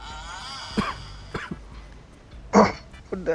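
Several short, sharp coughs in bursts among casual chatter, one louder hack standing out near the close.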